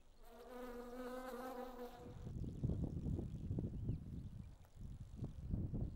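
Close buzzing of bees, a high steady drone with harmonics at first, then rougher fluttering buzz and rustling as they move about nearby.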